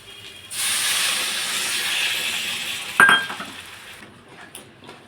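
Water poured into hot fried spices for a fish curry bursts into a loud hissing sizzle that rises suddenly, holds for a few seconds, then a clink of a pot or utensil as it settles down.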